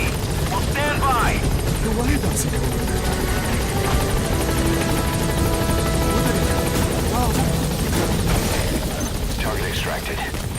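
A helicopter in the Metal Gear Solid V video game hovers and lands with a continuous loud rotor drone, while radio voices talk over it and brief tonal game sounds appear.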